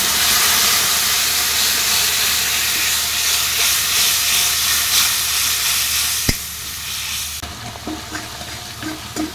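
Water with ground mustard and green chilli hits a hot pan of crab curry spiced with Kashmiri red chilli powder, giving a loud, steady hiss and sizzle. A sharp clink comes partway through, then the sizzle quiets to softer bubbling.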